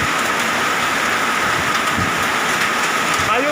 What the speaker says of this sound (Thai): ตอนนี้ก็เกิดฝนตกหนักนะครับพายุฤดูร้อน ลูกเห็บตกครับ